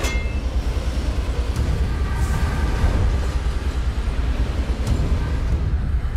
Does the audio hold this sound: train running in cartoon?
yes